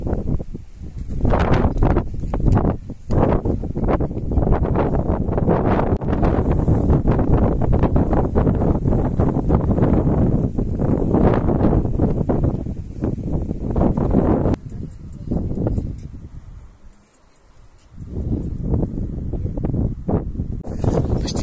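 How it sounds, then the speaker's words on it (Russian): Loud, steady cold wind blowing in from the sea buffets the microphone with a roaring rush and rustling, dipping briefly before gusting again; no voices. "ветер дует с моря, холодный, деревья нас уже не закрывают от него"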